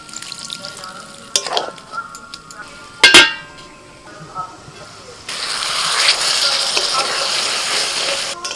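Masala okra cooking in a pan, with a few metal clinks and quiet stirring, then a sudden loud, steady sizzle as a little water hits the hot pan, under an occasional voice.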